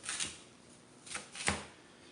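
Green peppers being chopped with a knife, three or four sharp, quiet cutting strikes spaced irregularly across a short stretch.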